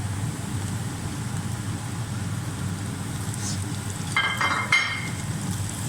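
Okra and onions fry in a pan with a steady low sizzle that runs throughout, and a few brighter clinks and scrapes of stirring come near the end.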